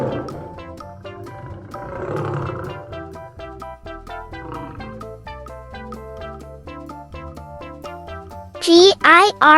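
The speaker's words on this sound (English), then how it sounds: "Lion. Lion." A lion's roar, a loud, wavering growl, bursts in near the end over a bouncy children's music track of steady plucked notes.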